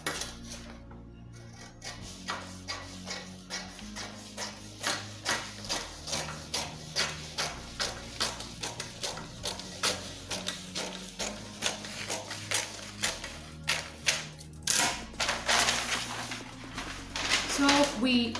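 Paper scissors cut through drafting paper, a run of steady, evenly spaced crisp snips close by, with a faint hum of music low underneath.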